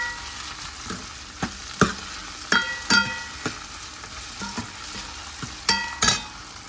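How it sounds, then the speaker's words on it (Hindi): Potatoes and radish frying with ground masala in a pan, a steady sizzle broken by a series of sharp scraping stirs, close and fairly loud, with no talking. "तो वो डालते हैं, वो मसाला भी मैंने अभी इसमें डाल दिया। इन सबको भी अच्छे से मिक्स करेंगे और रोस्ट करेंगे।"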